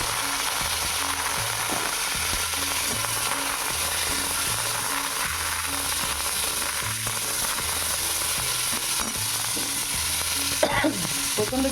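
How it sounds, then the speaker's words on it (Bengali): Raw mango pieces frying in hot mustard oil with whole spices give a steady close sizzle, joined by rhythmic scraping of a spatula stirring the pan, no voices heard. "তো এটা একটু ভাজতে থাকি, একটুখানি ভাজা হোক"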